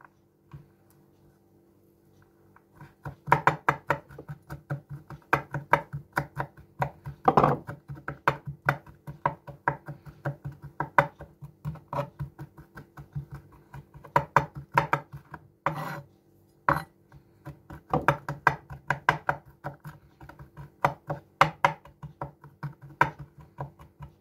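A knife chops salted herring for forshmak with walnuts, giving a long run of rapid, irregular taps and scrapes on a board, close and fairly loud, with no talking.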